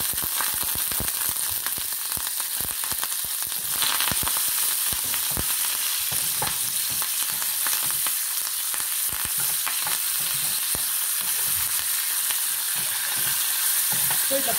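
Urad dal and curry leaves crackling in hot oil for a tempering, a loud continuous sizzle with dense rapid popping and sputtering throughout, close and without talk.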